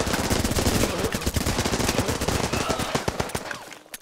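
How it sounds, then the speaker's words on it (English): Machine gun fire in Running With Rifles, a loud, sustained rattle of rapid automatic bursts layered with other shots, tapering off at the very end. "we got our machine gunners on point"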